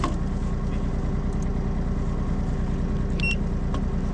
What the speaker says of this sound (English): Keep the engine idle for a minute.